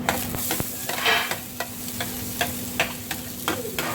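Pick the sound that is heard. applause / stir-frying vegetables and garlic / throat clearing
stir-frying vegetables and garlic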